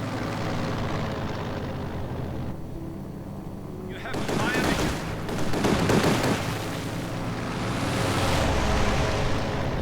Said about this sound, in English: An eager gunner with a 50 caliber.